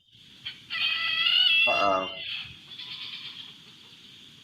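A rooster crows loudly nearby, a long harmonic call with a rising then falling cry, over a steady low rumble of background noise.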